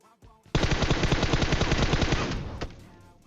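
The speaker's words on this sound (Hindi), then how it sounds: "गाड़ी से आते हैं, गाड़ी पे गोली गोली चलती है" Sustained automatic gunfire at a vehicle in the mobile shooter game PUBG Mobile, a loud rapid burst of closely spaced shots lasting about two seconds after a brief lead-in, then trailing off.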